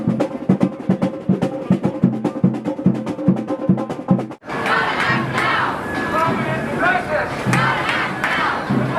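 A protest crowd of climate activists outside a TV news station cheers and shouts, first in rhythmic chanting bursts, then swelling at mid-clip into a loud, sustained roar of yelling and whooping.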